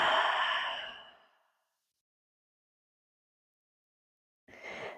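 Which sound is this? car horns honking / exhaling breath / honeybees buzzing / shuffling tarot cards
exhaling breath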